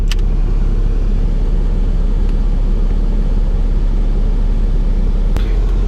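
A 1998 Acura Integra GSR engine idles while warming up with a steady low rumble, continuous and close, with a faint click or two partway through and no one speaking.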